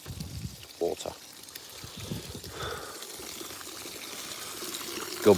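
Water pours from a big tank, a steady trickling flow heard under nearby talking and bursts of noise.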